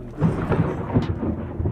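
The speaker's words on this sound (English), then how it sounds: "sorry about that, we have some rain" Rain and rumbling thunder at a rabbit farm in Ghana, a steady wash of falling rain under low rolling thunder, fairly loud and close, with no talking.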